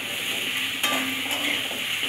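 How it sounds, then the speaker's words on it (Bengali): Potatoes sauté in a pan, giving a soft, even sizzle close by with a faint stir or scrape near the middle of a short stretch. "এবার আলুগুলোকে আমি ভালো করে কষিয়ে নেব"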